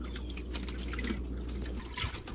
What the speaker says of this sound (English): Let the remainder of that drip off so that I don't get it all over the place